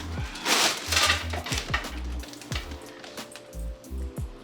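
Frozen fries are dumped onto a pan, giving a loud rattling clatter of pieces tumbling and tapping against the metal, then a scattering of smaller clicks as the last fries settle.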